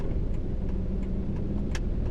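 An automatic car shifted into drive rolls forward and swings through a U-turn on a road, its engine a steady, close low hum with a faint rise partway through.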